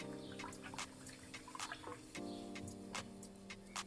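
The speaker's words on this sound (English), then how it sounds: "let's go ahead and rinse out" A paintbrush rinsed in a cup of water, small close dripping and clinking taps in an irregular rhythm over a low steady hum.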